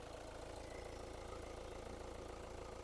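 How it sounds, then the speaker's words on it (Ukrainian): A 2015 Hyundai Grand Santa Fe diesel engine idles steadily and evenly throughout, a continuous low rumble with a faint rhythmic knock, close and moderately loud with no voices. "Двигун працює рівненько"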